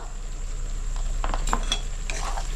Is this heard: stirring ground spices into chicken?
yes